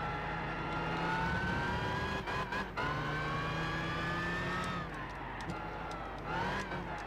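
Several race car engines from Gran Turismo 6, including Ford GT40s, run together in a steady, loud, sustained drone with rising pitch, a brief dip and gear change near the middle, and faint tire noise.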